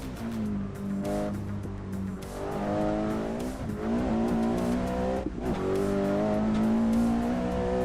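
A simulated Volvo engine in Assetto Corsa drones and revs through rising and falling gears with tire noise underneath, a steady loud in-car engine tone across the whole stretch without talk.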